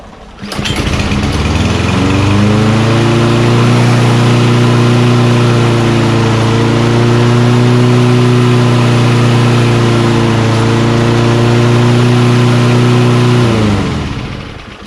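A Lawnboy self-propelled, rear-wheel-drive mower with a Kohler XT6.5 engine, stored with gas in it, starts up and runs at a loud, steady, close drone for about thirteen seconds before cutting off.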